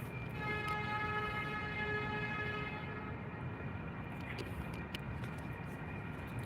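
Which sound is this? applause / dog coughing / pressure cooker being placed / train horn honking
train horn honking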